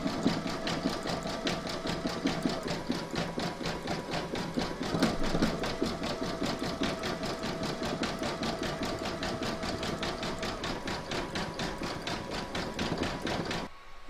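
A sewing machine zigzag stitches along the edge of a fabric placemat, a fast, even, continuous rattle of the needle that keeps up without pause for the whole stretch, close and clear.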